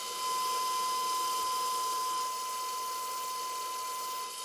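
An angle grinder running at 2,800 RPM with a diamond-coated wire wheel scours mill scale off heavy steel plate, giving a steady, loud, broadband abrasive hiss with a constant high whine throughout.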